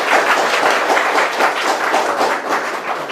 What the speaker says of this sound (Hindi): उसके लिए ताली बजाएंगे।